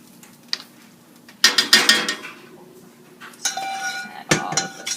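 Meatball ingredients being mixed in a bowl: a spoon clinks and scrapes against the dish in bursts of clattering strokes, close and fairly loud, with short quiet pauses between.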